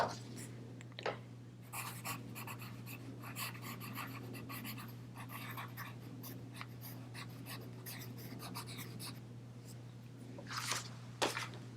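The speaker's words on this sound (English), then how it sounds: "I'm going to write that one." A pen scratches across paper in short, quiet strokes and taps, close and intimate over a steady low electrical hum, with no talking.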